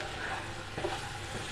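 Chicken pepper fry cooking in a pan, a soft continuous sizzle with a faint tap of a utensil partway through.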